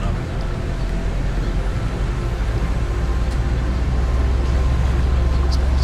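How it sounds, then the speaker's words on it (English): The engine of the fishing boat Vibeke Catherin in Fishing: Barents Sea drones in a deep, steady low rumble, close and continuous, swelling slightly as it moves away from the dock. "love that sound of that boat."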